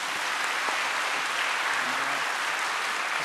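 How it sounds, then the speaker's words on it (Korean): A church congregation welcomes a missionary with sustained, even applause, a steady wash of clapping that fills the room at moderate loudness. "우리 선교사님 나오실 때에 우리 사랑의 박수로 환영하겠습니다."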